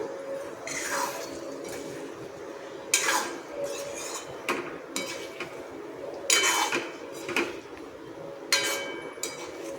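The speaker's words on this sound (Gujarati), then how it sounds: "બધા જ ટીંડોળાને આપણે હળવે હાથથી ફેરવી લઈશું।" Stuffed ivy gourds (tindora) are turned gently in a pan for a Gujarati shaak, giving a steady low sizzle broken by several sharp clinks of a spoon against the metal pan, some of them close together.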